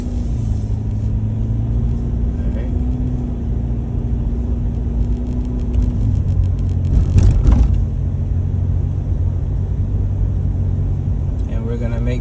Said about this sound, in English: Now you can turn the wheel one time and slowly bring it back.